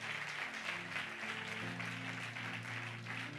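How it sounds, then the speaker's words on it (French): A church congregation at a prayer service applauds in a steady, continuous wash of clapping, with faint sustained musical tones underneath and no talking. "Acclame bien, je vais chuter ici. Acclame très fort."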